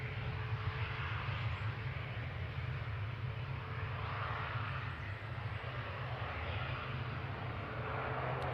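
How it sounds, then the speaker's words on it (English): A Loganair airliner taxis quickly at Manchester Airport, its engines a steady, loud, close drone that holds evenly throughout with no voices. "Rapid taxi from Loganair."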